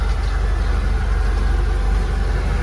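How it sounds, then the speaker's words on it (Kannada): A motor pumping air into a gem mine in Sri Lanka drones steadily at close range, a constant low mechanical hum with a fast, even pulse. "ಇಲ್ಲಿ ಮೋಟ್ರ್ ಹಾಕಿರ್ತಾರೆ ಆಕ್ಸಿಜನ್ ಇಲ್ಲಿಗೆ"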